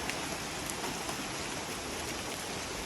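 Steady rain falls on a nature trail in Majayjay, Laguna, a dense, even hiss of drops that runs without a break, with no voices.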